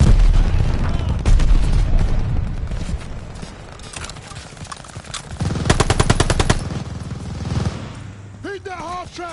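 A half-track's mounted machine gun in Call of Duty Vanguard fires in loud rapid bursts amid explosions and battle noise, with shouted voices and a sharp ricochet-like whine near the end.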